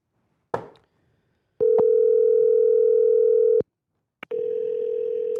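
A telephone call rings out over the line, two long, steady, loud tones separated by silence, preceded by a brief click of the handset.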